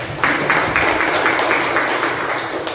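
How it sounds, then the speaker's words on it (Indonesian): A classroom of vocational high school students applauds their classmates, a dense burst of clapping held steady for a few seconds, with no talk over it. "tepuk tangan dulu buat teman-teman yang sudah bisa menjawab"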